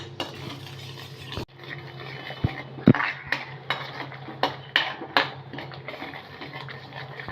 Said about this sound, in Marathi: आता हे पण आपण दही मसाल्यामध्ये दोन तीन मिनटं परतून घेणार आहोत